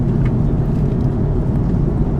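Steady low engine roar and broadband rushing noise, constant and close, inside an aircraft cabin in flight from Dhaka to Malaysia.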